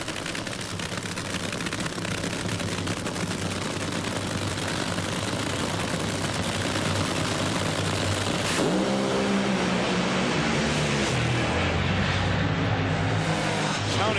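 NHRA drag racing cars at the 1999 Supernationals in Houston launching and smoking the tires, a loud continuous engine roar that swells and shifts pitch midway as the cars accelerate.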